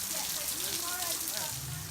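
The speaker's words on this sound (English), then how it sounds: "it's hammering down with rain" Heavy rain hammers steadily on a roof in Zambia, a dense, continuous wash of noise with no let-up through the short stretch.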